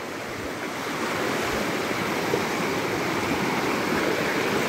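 Water rushing steadily through a mountain river where people are bathing, a continuous broadband roar that rises slightly in the first second and then holds loud and close with no talk.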